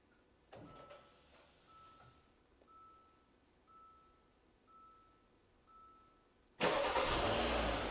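A 2013-2018 Hyundai Santa Fe started by a MyKey Premium remote starter: a few faint clicks and soft chirps, then the engine cranks and catches with a sudden loud roar near the end.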